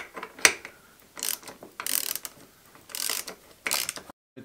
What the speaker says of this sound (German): hier hinten muss ich jetzt nur noch die 10er Schraube hier anziehen